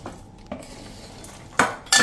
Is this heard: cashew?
yes